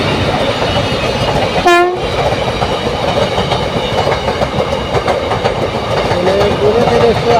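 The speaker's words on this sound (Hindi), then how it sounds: "देखिए दोस्तों यहाँ पे ट्रेन आ चुकी है।" A train pulls into a station on a sunny day: a steady rolling rumble fills the scene, and a single horn blast rings out partway through. Faint voices can be heard in the background.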